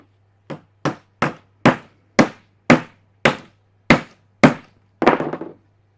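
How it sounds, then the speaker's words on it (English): Ten sharp tapping knocks on a jammed wooden piece during garden gate joinery, evenly spaced and close, each ringing briefly with a slightly heavier final strike, alone without talk. "I'm going to give it a little bit of a tap here just to release it."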